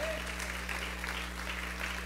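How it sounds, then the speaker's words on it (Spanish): A church congregation breaks into sustained applause, a dense wash of clapping from many hands over a steady low hum, with a voice briefly audible. "¿Pueden dar una ofrenda de palmas las Martas?"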